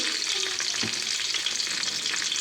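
Whole cardamom pods, cinnamon sticks and cloves frying in hot oil for beef curry in a rice cooker, giving a close, steady, crackling sizzle throughout.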